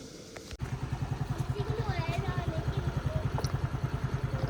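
A scooter engine runs during a riding lesson, putting out a fast, regular thumping pulse after a sharp click at the start, with voices speaking over it.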